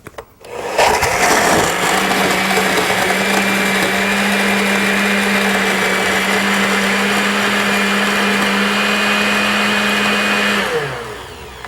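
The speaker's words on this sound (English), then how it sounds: "let's blend it all up" A kitchen blender whirs loudly and steadily for about ten seconds, crushing ice with orange juice, ginger, lemon and mint for a cooler, then spins down.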